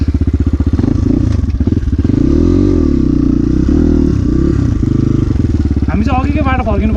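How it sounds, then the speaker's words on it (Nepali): A motorcycle being turned around on a rough, muddy off-road village track, its engine loud and close with uneven revving, clatter and scraping throughout, while voices talk over it. "यहाँबाट बाइक फर्काउँदै थकेलाइसक्यो यार"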